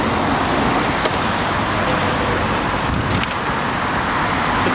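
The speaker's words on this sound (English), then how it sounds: "Obviously I've got to sit and wait for the cars to come." Cars pass at a road junction in Sheffield with a continuous loud roar of traffic and road noise, steady throughout with no clear individual pass-bys standing out.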